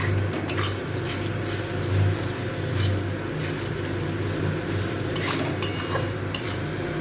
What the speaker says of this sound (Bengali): দিয়ে মশলাটাকে একটু ভালো করে কষিয়ে নেব